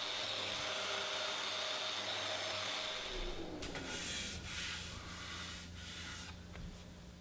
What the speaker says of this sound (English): follow up with a sander with a 120 grit sandpaper